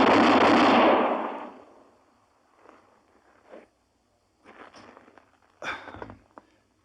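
A pistol fired in an old-time radio Western drama: a loud burst opens, then fades, and a few sharper shot-like cracks follow with quiet gaps between them.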